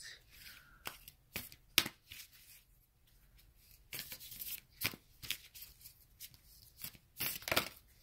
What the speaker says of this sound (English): I'm going to pull one of these Oracle Moonology cards